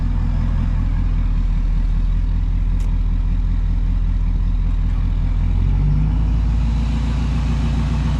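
A 2019 Ford F-250 Powerstroke diesel pickup accelerates, its engine a loud, steady drone close by, with a shift in pitch late in the run as it moves up through the gears.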